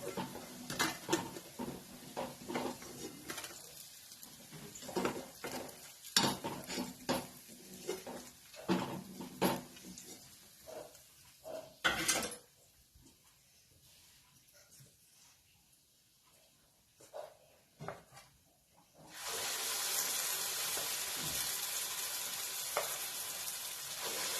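Potato and urad dal vadas frying in hot oil give a steady hissing sizzle that swells loud near the end, broken earlier by clinks of a utensil against the pan as the vadas are lifted out.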